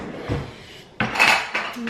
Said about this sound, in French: je suis en train de chercher mon fouet. Il doit être dans le lave-vaisselle